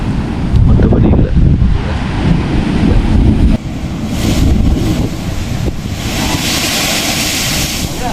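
Ocean waves surge at the Hummanaya blowhole on the Sri Lankan coast, a steady loud roar of surf and rushing water with heavy wind buffeting the microphone throughout.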